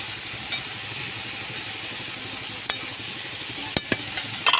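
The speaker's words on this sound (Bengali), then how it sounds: "বাঁধাকপিটা কষবো ঢেকে ঢেকে" Cabbage with fried potatoes sizzles softly in a pan, a steady low hiss broken by a few sharp scraping knocks of a spoon stirring, clustering toward the end.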